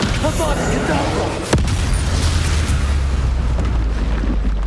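Depulso and Descender spells cast in the video game Hogwarts Legacy, heavy booming blasts and a sharp burst over a loud, sustained rumble, with a voice over the top.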